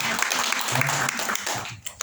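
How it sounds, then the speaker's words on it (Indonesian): A church congregation claps steadily for a couple of seconds, with voices mixed into the applause. "Beri tepuk tangan untuk Tuhan di seluruh ya"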